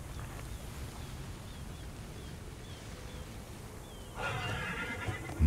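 A horse whinnies in the video game Immortals Fenyx Rising amid a quiet outdoor ambience with faint chirps, followed by a louder rustle near the end.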